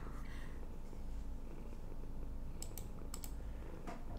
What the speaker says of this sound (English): Oh, little kitty.